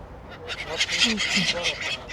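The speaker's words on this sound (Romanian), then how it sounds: "Sunt și câteva rațe" Several ducks quack and honk in a short, busy cluster of calls, fairly close, with water-side background noise.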